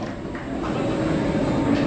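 A roller coaster train runs on the Daredeviler ride at Canada's Wonderland, heard as a steady rolling rumble that swells slightly, with a thin tonal whine over the outdoor park ambience.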